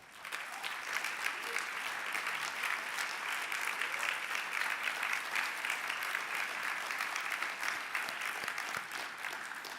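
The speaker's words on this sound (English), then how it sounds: "If you can stand up and we give them a round of applause." A large audience at an annual meeting's plenary lunch gives the mayors a round of applause, with dense, steady clapping that continues throughout without a break.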